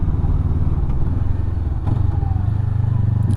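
Honda CB500X motorcycle climbing Stelvio Pass, its engine a steady loud drone heard from the rider's position with wind rush mixed in, holding a constant note with a slight rise in pitch toward the end.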